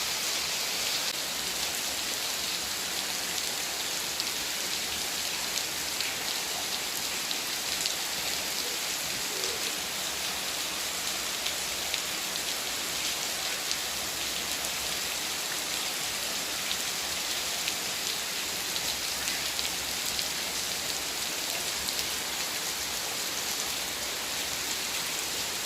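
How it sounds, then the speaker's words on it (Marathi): Heavy monsoon rain pours down outside a balcony gallery in a dense, even roar of drops striking surfaces. It is loud and unbroken from start to end, with no voices. "बाहेर पाऊस फार पडत आहे"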